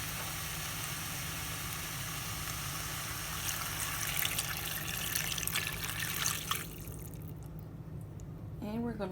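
About six cups of water pour into a soup pot with butternut squash, a steady splashing flow that stops near the end, leaving quieter kitchen background.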